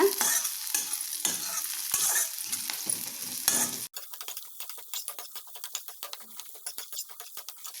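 Finely chopped carrots and beans stirred and sautéed in a pan for paneer fried rice: sizzling with scraping stir strokes for about four seconds, then quieter crackling and ticking of the vegetables cooking alone.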